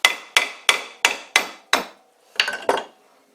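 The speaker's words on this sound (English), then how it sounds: "I got the pulley loose just by supporting it by hand and hitting it with the nylon hammer" A nylon hammer strikes a vintage Karger lathe spindle pulley, held by hand, in six evenly spaced sharp knocks, then two quicker louder blows; close, clear and alone.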